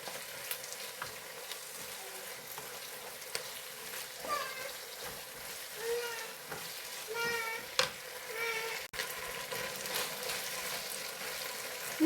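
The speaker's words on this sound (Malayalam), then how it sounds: "ഇനി നന്നായി ഒന്ന് ഇളക്കി കൊടുക്കാം." Chicken fried rice sizzles steadily in a pan while being stirred, with scattered scraping and clinking of the spoon throughout, a few faint higher tones and a soft voice in the background.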